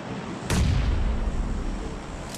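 A grenade blast in a gameplay firefight erupts suddenly, a loud booming burst with a heavy low rumble that decays over about two seconds, a second sharp crack at the very end.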